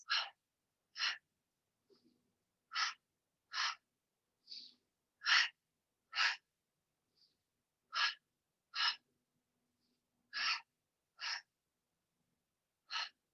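Sharp, breathy inhales and exhales during a Pilates exercise, about a dozen bursts in a steady rhythm roughly one per second, close and fairly quiet with short silences between.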